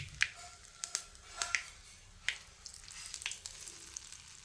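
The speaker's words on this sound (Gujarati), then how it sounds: "હવે વઘારને બેટરમાં ઉમેરી દઈએ" Sharp crackling pops of hot oil tempering with cumin and curry leaves hitting dhokla batter, several distinct bursts over a soft sizzling hiss, close by with no talking.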